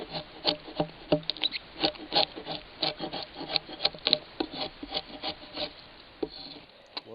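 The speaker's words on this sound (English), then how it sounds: "If you guys would like to see me peeling these logs" Bark is peeled and scraped off timber logs for a shed build in a run of short, uneven rasping strokes, close and moderately quiet, with brief gaps between scrapes.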